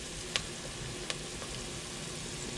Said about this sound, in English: we're going to saute this for a little bit